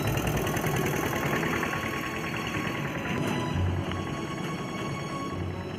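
A tractor engine runs steadily at a village rice farm, a constant mid-pitched mechanical drone with a slight rattle, close and unbroken throughout.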